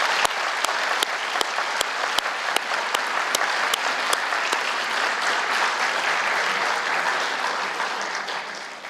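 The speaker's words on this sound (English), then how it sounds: "and now we can give a round of applause." An audience at an East Longmeadow High School student achievement night claps in sustained, dense applause, with a few sharper nearby claps standing out early, holding steady and then easing slightly toward the end.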